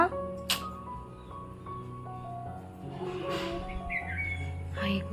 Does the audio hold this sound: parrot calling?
yes